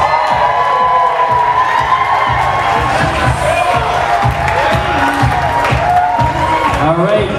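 Wedding guests cheer, whoop and applaud the bride's grandparents, a loud, sustained crowd roar with shouts and clapping filling the room while an announcer speaks over it.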